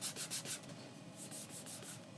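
A hand rubs across the rough finish of a new guitar body, producing soft rhythmic scratchy strokes in repeated bursts, close and quiet, with no talking.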